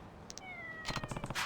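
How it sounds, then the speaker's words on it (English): A black cat in Yakuza 3 meows near the end, a short burst of cat cries following a quiet stretch with a couple of faint high ticks and a thin tonal whistle. "Black cat."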